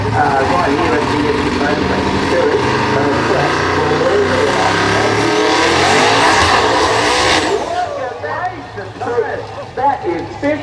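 A 1,500-horsepower drag racing car roars through a burnout at Perth Motorplex, with a loud, sustained engine scream and tire squeal that cuts off abruptly near the end, leaving quieter rumbles and a faint voice.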